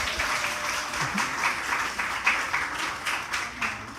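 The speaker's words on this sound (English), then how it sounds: "let's give that a round of applause." An audience applauds steadily, a dense wash of many hands clapping at a fairly even level for several seconds.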